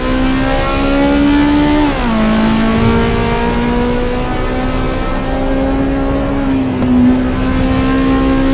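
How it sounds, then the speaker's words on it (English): A Honda S2000 engine in the Assetto Corsa Evo racing game holds a loud, steady, buzzing high-rev note, dipping in pitch once early on and again briefly near the end, heard alone without any talking. "Like when you leave the gas, it sounds like a real Honda and you come back on it."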